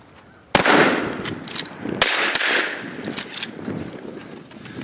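Shotgun blasts at mallard drakes during a duck hunt, two sharp loud shots about a second and a half apart followed by a fainter pop, with rustling and background noise between them.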